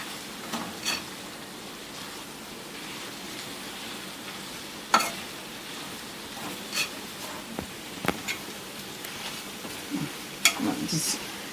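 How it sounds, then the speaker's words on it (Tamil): Sautéed onions are stirred in a pan. A soft, continuous sizzle runs throughout, broken by several sharp scraping strokes of the utensil against the pan, close and moderately quiet. "போட்டுட்டு இதை வந்து அப்படி கிளறி வச்சுக்கணும்"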